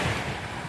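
Continuous wash of sea waves on the Tyrrhenian shore on a summer morning, a broad steady hiss and rumble, close and fairly loud, with no voices.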